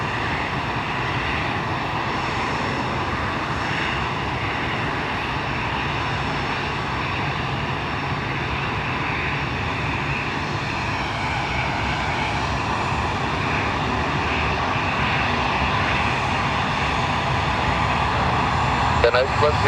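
A TAP Air Portugal Airbus A320-214 jet takes off from Lisbon Airport at night, its engines a steady, loud roar that holds without a break, with faint radio chatter underneath.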